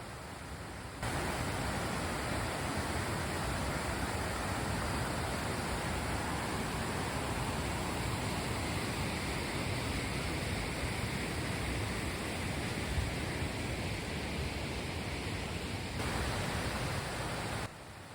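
Water pours continuously over two man-made waterfalls near Stavelot Abbey in the vicinity of Spa, the smaller one dating from the 15th century. The roar is steady, broad and close, without pause for most of the stretch and with no voices.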